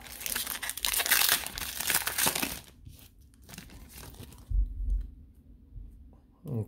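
Foil wrapper of a 2021 Prizm baseball card pack being torn open and crinkled, a loud, dense burst of crackling for over two seconds, then quieter rustling of handled cards and a few soft bumps.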